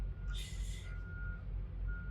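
A truck reverses nearby, its backup alarm sounding repeated steady beeps over a low idling engine rumble, with a brief hiss of air brakes early on.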